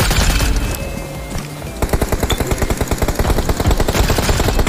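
Gunfire rings out in the mobile shooter Game for Peace: a burst of shots gives way to rapid, loud automatic fire, dense and rhythmic, dominating the mix with no talking.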